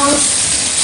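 Food sizzles loudly and steadily on a hot plate at a steak and meat restaurant, a close, dense hiss that lasts the whole moment.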